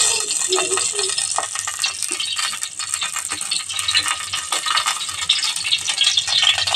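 Mustard seeds and cumin fry in hot oil, a bright, continuous crackle and sizzle with small popping rattles, close and fairly loud, with faint background voice traces.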